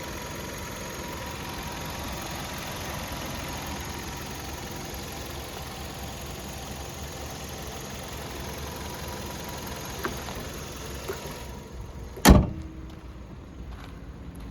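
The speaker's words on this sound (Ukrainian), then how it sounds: "Двигун працює ідеально." The 1.6-litre petrol engine of a 2012 Hyundai i30 automatic idles with a steady low hum without change, then cuts off near the end with a sharp clunk, leaving near silence.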